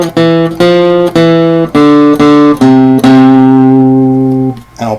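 Guitar picks a bright run of single notes in two quick triplet groups, then lets a final note ring and fade, played close and loud with no voices.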